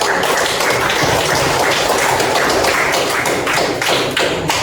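A classroom audience claps for a presenting group of students, a dense, loud burst of hand claps that continues steadily throughout with no voices.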